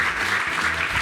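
An indoor audience at an inaugural Grand Slam Track meet breaks into brief, dense clapping, loud and steady throughout.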